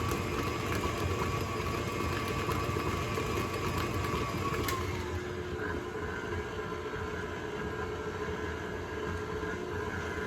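An electric mixer whips cream cheese filling for a lemon icebox pie, giving a steady, close motor whir that shifts in pitch partway through as the speed is raised.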